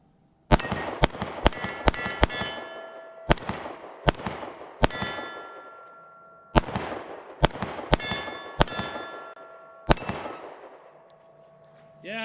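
Pistol shots from a Springfield Hellcat or Sig P365 at a shooting range: about fifteen sharp, loud cracks, some in quick bursts of two or three, each ringing out briefly, with short pauses between groups.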